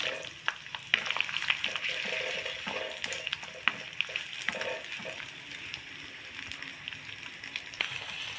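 Onions dropped into hot oil with cloves for a mutton curry, crackling and sizzling steadily up close with scattered sharp pops and light stirring scrapes, loudest early then settling into an even fry.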